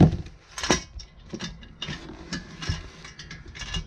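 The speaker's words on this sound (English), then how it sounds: "you want to make sure these bolts are nice and tight" A ratchet wrench clicks in short bursts while bolts are tightened, with irregular metallic ratcheting strokes up close and no talking.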